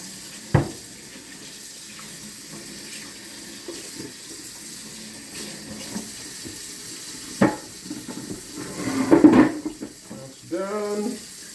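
Tap water running into a sink while pork ribs are rinsed, a steady wash of water with occasional clunks and splashes, and a brief voice near the end.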